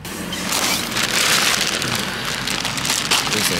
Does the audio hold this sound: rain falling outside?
yes